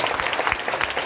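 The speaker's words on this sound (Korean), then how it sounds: "우리 이분들에게 뜨거운 박수 한번 드리겠습니다" A congregation at a prayer meeting marking the Korean War anniversary gives elderly war veterans a warm round of applause, a dense, steady wash of many hands clapping throughout.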